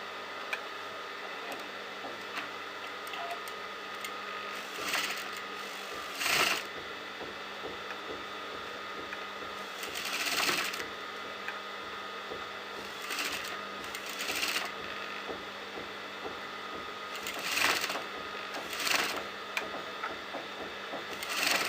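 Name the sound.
sewing machine sewing a neckline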